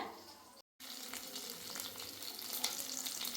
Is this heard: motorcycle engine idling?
no